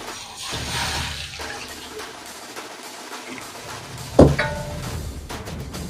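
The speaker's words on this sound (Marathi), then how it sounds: "आता मी यामध्ये पाणी टाकणार आहे." In a kitchen, water is poured into a small bowl holding a spoonful of ghee: a short splashing pour, a quieter stretch, then a sharp clink near the end.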